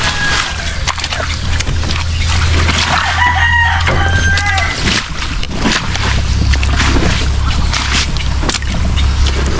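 Chickens on a Filipino backyard farm, with a rooster crowing loudly nearby in two long calls over steady clucking and general yard noise.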